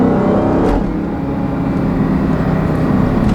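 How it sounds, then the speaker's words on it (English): A 2016 Dodge Challenger Hellcat with a 6-speed manual pulls hard at full throttle in second gear, a loud, continuous engine roar with supercharger whine heard from inside the cabin. "I'm going full throttle in second gear"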